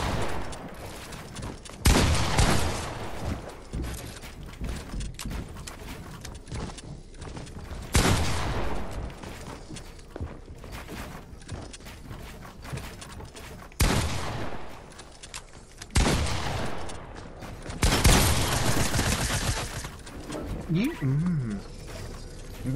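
Fortnite gunfire comes in several loud bursts separated by quieter stretches of game ambience, each volley sharp and broadband, with no talk during the shooting.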